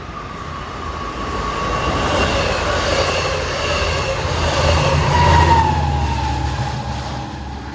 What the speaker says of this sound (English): Approaching westbound at 740 is 37 Speonk to Long Island City.